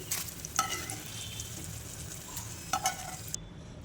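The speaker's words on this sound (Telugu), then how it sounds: "ఇప్పుడు ఇందులో మనం ఒక 3 పచ్చిమిర్చీలను 6-7 ఎండుమిరపకాయలను వేసి ఫ్రై చేసుకోవాలి." Green and dry red chilies frying in hot oil give a steady low sizzle, with a few brighter crackles and stirring clinks near the start and again toward the end. No one speaks.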